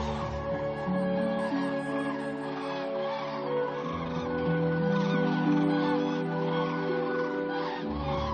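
Thousands of waterbirds massed on a lake, a dense, continuous chorus of overlapping calls and chatter at moderate distance, steady throughout with no voices.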